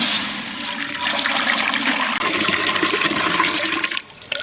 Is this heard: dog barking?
no